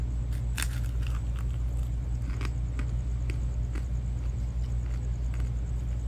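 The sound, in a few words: biting crunchy fried pork skin braciola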